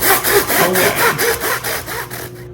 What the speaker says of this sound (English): we just finished sawing our first half coconut